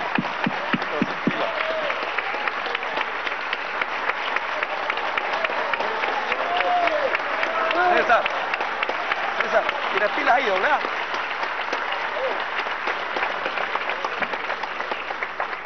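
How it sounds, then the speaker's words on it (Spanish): Deputies in Venezuela's National Assembly chamber give sustained applause, a continuous crowd clapping that runs the whole time, with voices and chatter mixed underneath. "Gracias por los aplausos"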